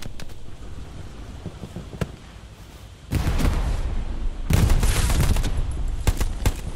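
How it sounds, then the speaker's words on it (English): Anti-tank rockets and heavy gunfire hitting a house in the Hell Let Loose video game. Sharp bursts and cracks come throughout, building into a dense, loud barrage of impacts and explosions in the second half. "they got anti-tanks firing rockets at the house I'm in now"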